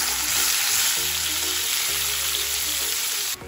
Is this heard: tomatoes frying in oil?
yes